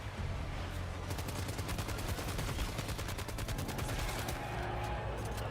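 Rapid automatic gunfire from a video game fight, a continuous stream of sharp, evenly spaced shots over a low rumbling bed, steady and fairly loud throughout.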